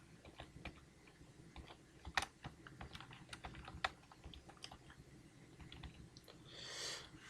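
Scattered keystrokes tap on a computer keyboard, typing a long comment on a website: quiet, irregular clicks with a few sharper strikes and a soft rustle near the end.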